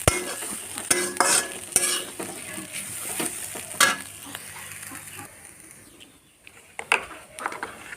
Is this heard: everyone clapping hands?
no